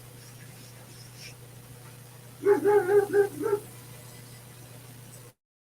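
A short burst of several dog barks in quick succession, moderately loud, against a steady low hum; quiet before and after.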